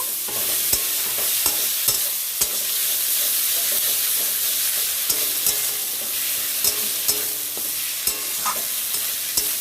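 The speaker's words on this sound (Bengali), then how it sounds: "এতে আছে আদা কাঁচা লঙ্কা আর রসুন আছে দিয়ে দিলাম মশলাটা সবটা এবার এটাকে ভালো করে নেড়ে ছেড়ে ভেজে নেব" Ground ginger, green chili and garlic paste stir-fried in a pan, giving a loud continuous sizzle and hiss close by, with regular scraping and tapping of a spoon against the pan.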